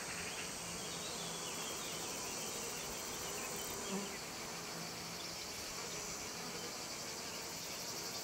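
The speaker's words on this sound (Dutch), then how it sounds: "Nu gaan insecten, vooral bijen en hommels, de bloemen bevruchten door het stuifmeel van de ene naar de andere bloem te brengen." Bees and bumblebees buzz steadily around sunflowers outdoors, a continuous dense insect drone that stays even and moderately loud throughout, with no speech.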